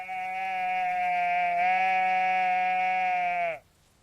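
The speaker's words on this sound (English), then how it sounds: "Sheep baa." A single sheep bleats in one long, sustained, strongly tonal baa lasting about three and a half seconds, loud and close, with nothing else audible before it breaks off.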